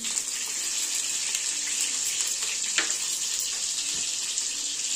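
Potatoes fry steadily in a pan with salt and turmeric for a chicken potato curry, giving a continuous hissing sizzle that stays even throughout with no voices.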